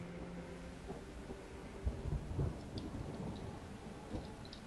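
Rain and thunder in StarCraft II on the planet Char: a steady, fairly quiet rain hiss, with a few low rumbles of thunder rolling through the middle.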